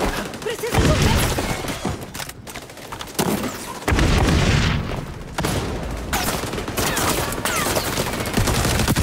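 Gunfire and explosive blasts in the XDefiant shooter game, dense and loud with bursts of shots and heavy booms, a grenade among them, under occasional game voice lines.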